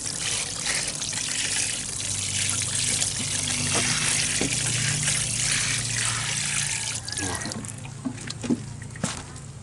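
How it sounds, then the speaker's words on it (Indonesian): Water poured over a prepared sand medium for rose cuttings makes a steady, close trickling and splashing, with a few sharper drips and spatters near the end and no talking. "kita siram dulu media pasir yang saya sudah siapkan ini. Siram merata"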